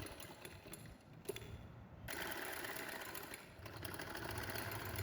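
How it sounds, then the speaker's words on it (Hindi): A sewing machine runs steadily, stitching close along the edge of a frock for a two-year-old girl, its quiet mechanical whir continuous with a slight shift in pace partway through. "ये कुछ इस तरह से हम इसकी सिलाई लगाते जा रहे हैं, इसके ऊपर बिल्कुल किनारे से।"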